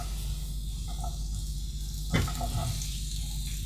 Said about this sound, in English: We're going to put the oil in our nice hot pan and then add the mushrooms. Now start to sizzle.